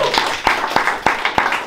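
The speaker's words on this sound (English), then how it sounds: "give them one more round of applause" Sparse, rhythmic hand clapping from an audience at a roast battle comedy show, a few sharp claps spaced about every third of a second, close and fairly loud, with no speech over it.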